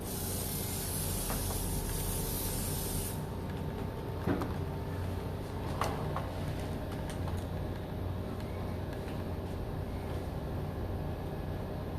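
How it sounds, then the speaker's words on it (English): A hair shield spray is misted onto hair, a loud steady hiss for the first few seconds that then cuts off, leaving quiet background noise with a couple of small clicks and no talking. "we're gonna start applying the shield spray again"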